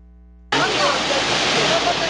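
Water gushes suddenly from a burst water main in Manrique, Medellín, a loud roaring rush that cuts in abruptly after a faint tonal hum and keeps pouring steadily.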